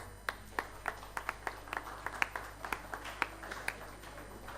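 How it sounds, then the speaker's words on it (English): Scattered, sparse hand claps from a small audience at a student symposium opening ceremony, fairly faint and irregular, over a steady background hum. "Please give them a round of applause."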